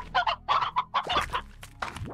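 Video game chickens in Slime Rancher cluck in a quick run of short bursts, with a busier flurry of overlapping clucks and squawks after a brief pause, close by and fairly loud.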